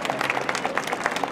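A crowd applauds at an air show for the Brazilian Air Force aerobatic team Esquadrilha da Fumaça, with dense overlapping claps and a hint of voices under the noise.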